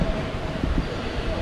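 A high-speed train runs from Nanjing station toward Wuhan, heard from inside the carriage as a steady, close, continuous rumble and hum with no breaks.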